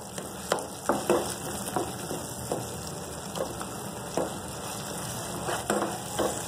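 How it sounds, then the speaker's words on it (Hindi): Tomato chutney being fried in a pan, giving a soft, continuous sizzle broken by occasional clicks and scrapes from stirring, close and moderately quiet, with no voices. "थोड़ी सी इसकी भुनाई होगी बस"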